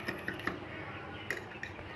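A spoon stirring spices into yogurt in a bowl gives a few light clinks and scrapes against the bowl, with soft mixing noise in between.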